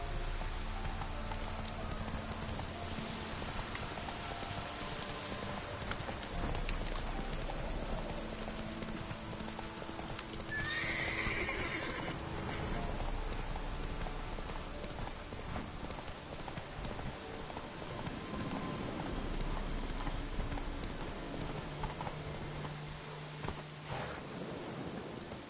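Roach the horse trots through The Witcher 3 in a rainstorm, hoofbeats clip-clopping steadily beneath a constant wash of rain and low rumbling thunder, with a sustained musical drone underneath.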